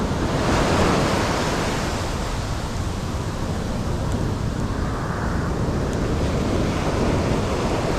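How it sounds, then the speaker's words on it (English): Heavy shore-pound surf, about six feet, crashes and rolls continuously on the beach, a dense roaring wash with wind buffeting the microphone and no voices. "that's in 6-foot shore pound surf"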